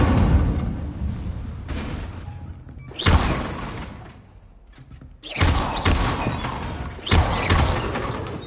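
Incendio fire spell cast in the Hogwarts Legacy video game on PS5, heard as a few loud bursting blasts and whooshing thuds separated by quieter gaps, mixed with other combat effects.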